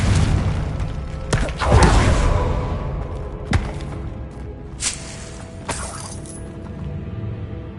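Confringo fire spells explode in Hogwarts Legacy, a series of booming, crackling blasts with shattering bursts, the biggest early on, followed by fainter thuds and swooshes.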